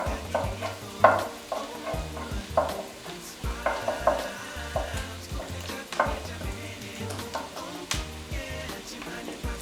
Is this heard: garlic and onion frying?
yes